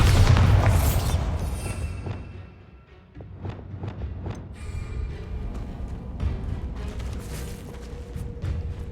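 A Bombarda explosion spell in Hogwarts Legacy: a heavy boom up front that decays into rumble, followed by scattered thuds and quieter ambient game sounds.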